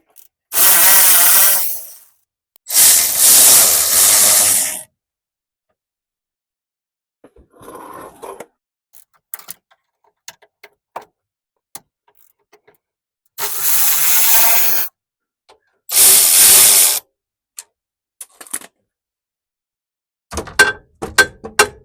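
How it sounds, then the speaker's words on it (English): Two 12 mm bolts coming out of a bracket on a Toyota Tercel's chassis: loud bursts of rapid ratchet clicking in separate runs, broken by clinks and small metallic knocks, close by with no talking. "we take out these two 12 millimeters from the bracket into the chassis"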